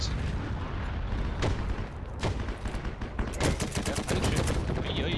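Rapid gunfire in the World War II shooter Heroes & Generals, dense bursts of automatic fire and cracking shots, loud and continuous across the clip, building to a fast volley near the end.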